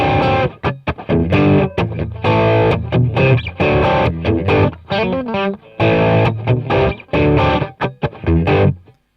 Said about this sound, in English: Now that is for the overdrive pedal, the Boss OD pedal.